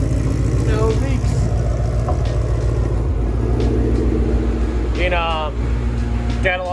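A supercharged Ford Mustang S550's engine with a Whipple blower idles with a steady low rumble throughout, on jack stands, with faint chirps and mechanical noises overhead near the end.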